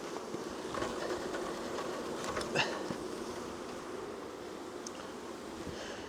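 A package of honeybees is dumped into a hive, giving a steady, dense buzzing hum throughout with a brief knock or thump near the middle, heard close up with no talk.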